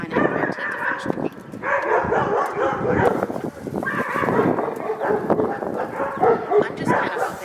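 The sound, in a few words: neighbor's dog barking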